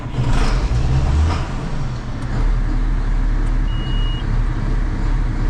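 John Deere 7810 tractor engine revving on startup, a loud close diesel roar surging early then settling into a steady low rumble, heard alone.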